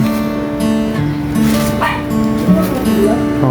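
A dog close by gives high whining whimpers and short yips, with soft bow-wow barks mixed in, continuous across the few seconds over a steady background hum.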